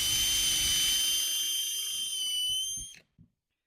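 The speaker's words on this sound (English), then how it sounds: "I'm just using a countersink bit. This is one of those drill and flips." A power drill fitted with a drill-and-flip countersink bit whines loudly and steadily while boring into wood for a juice groove jig, then spins down and stops, followed by a short knock.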